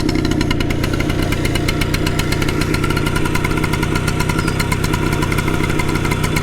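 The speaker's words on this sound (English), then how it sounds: "That is an AMF Harley-Davidson. Let's take it for a ride." An AMF Harley-Davidson X-90 Shortster motorcycle engine running steadily nearby, a loud, continuous rapid thumping putter with a rattly mechanical edge that holds even throughout, with no talking.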